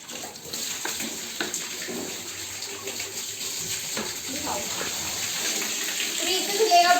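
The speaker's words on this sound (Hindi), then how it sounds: "फ्रीज में धुलेगा बड़े वाले पाइप से, एक बार में फ्रीज धुल गया।" Water gushes steadily from a large hose pipe while a refrigerator is washed down during household cleaning, a continuous splashing rush with a voice and other voices faintly audible underneath.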